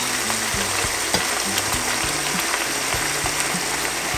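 Sofrito of red onion and peppers sizzles steadily in a pan, a continuous hiss-like frying with faint scattered pops and clicks and no talking.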